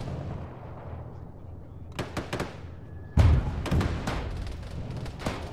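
Tank shell blasts in a military video game, a burst of sharp booming impacts arriving in two clusters, the second louder and heavier with deep thuds, over a low rumbling background.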